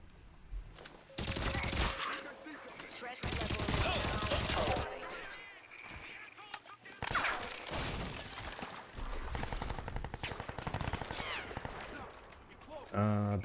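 Gunfire in the first-person shooter Crysis 3 Remastered comes in several long, loud bursts of rapid automatic fire separated by short pauses, with someone talking over and between the shots.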